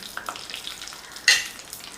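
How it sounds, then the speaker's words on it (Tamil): Mustard seeds, urad dal and dried chillies fry in hot sesame oil, giving a soft, steady sizzle with one sharper crackling pop partway through, with no talking. "இப்போ எண்ணெய் காஞ்சிடுச்சு அதில் கடுகு உளுத்தம் பருப்பு சேர்த்துட்டேன்"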